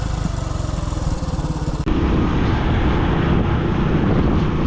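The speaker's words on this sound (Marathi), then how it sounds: "आता गाडी फटकं मारायला लागली" A Hero Passion Pro motorcycle engine running out of petrol chugs with rapid, uneven pulses, then abruptly changes to a rougher, louder droning rumble close by.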